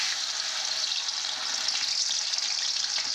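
Large bhola fish pieces rubbed with salt and turmeric fry in oil, giving a loud, dense, continuous sizzle that stays steady and close throughout.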